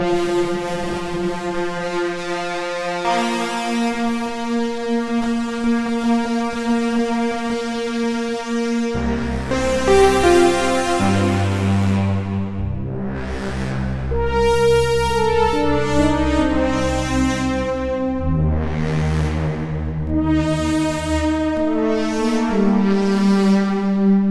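A buzzy Korg multi/poly wavetable synthesizer plays a slow sequence of sustained notes, its tone sweeping brighter and darker as a filter opens and closes, with no voices.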